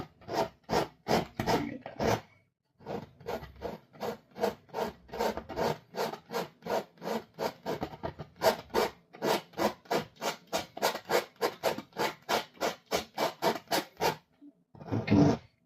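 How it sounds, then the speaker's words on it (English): A palette knife scraping paint across a canvas in long rhythmic strokes, about two per second, close and dry and raspy, pausing briefly near the start and again near the end, with no voices. "Let's just start scraping off the paint."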